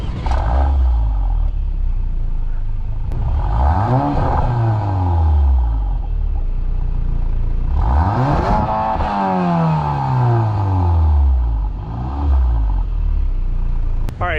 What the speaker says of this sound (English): So now that we've listened to this amazing exhaust sound